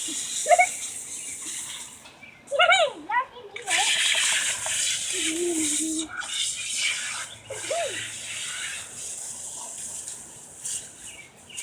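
A hose sprays water over a dog to rinse mud off after rain, a continuous hissing gush with brief breaks. A child and an adult talk over it.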